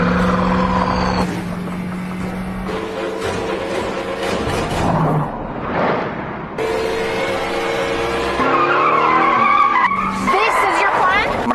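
A car skids and squeals its tires while swinging through a U-turn on an endless road, the engine and tire noise loud and continuous over about eleven seconds, with music playing underneath.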